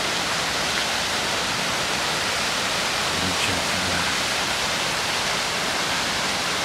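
Water jets of a teardrop-shaped fountain at Peterhof spray and patter steadily, a dense continuous hiss like heavy rain that stays loud and close throughout with no talking.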